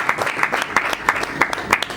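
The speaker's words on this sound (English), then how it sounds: "Can we please give him a sounding round of applause as he comes on?" An audience at a book launch breaks into applause, a short run of brisk, fairly close hand claps with a loose rhythmic pulse.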